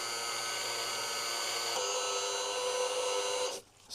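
Small DC motor driving the piston out of an electronic parking brake caliper on the bench, a steady high whine with a pitch shift partway through before it stops abruptly.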